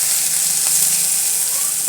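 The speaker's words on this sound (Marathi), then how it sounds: "छान आपला टॅमॅटो भाजलाय." Tomatoes fry in a pan for a spicy kalvan curry, a loud, close, continuous sizzle with a brief stir near the end, no voices.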